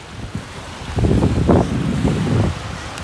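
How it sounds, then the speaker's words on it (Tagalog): Strong wind at a Cavite beach roars into the microphone in rumbling gusts that swell for about two seconds, with the wash of surf beneath. "Ang lakas po ng hangin."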